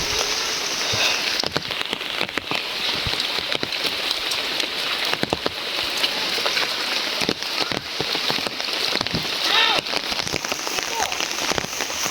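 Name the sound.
light rain falling in a village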